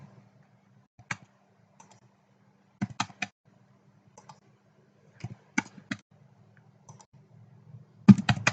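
Computer mouse clicks in a quiet room, sharp isolated clicks in small pairs and clusters spread over several seconds, with a louder burst of clicking at the end.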